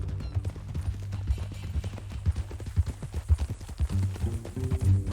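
Horse hooves clip-clop steadily in Red Dead Redemption 2 as a rider moves along at an easy pace, the rhythmic hoof falls close and clear over low game ambience.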